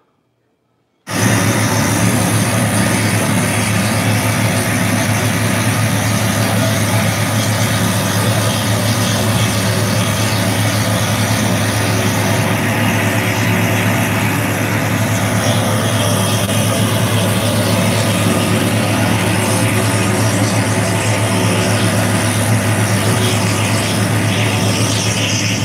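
Military or civilian UN mission helicopter near Bunia, a loud continuous rotor and engine drone that starts abruptly and holds steady throughout.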